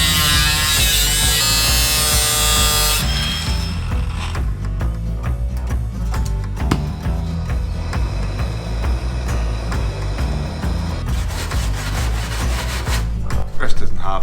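A power tool grinds and cuts rusted metal out of the rear wheel arch of a Ford Landau hardtop coupe, a loud, close, continuous buzzing rasp with a high whine at the start.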